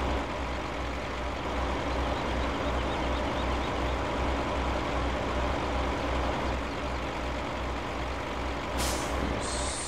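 Peterbilt truck driving in a farming simulator game: steady loud diesel engine drone with continuous road rumble, a brief hiss near the end.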